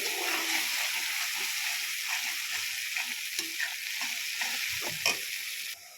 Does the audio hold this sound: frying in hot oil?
yes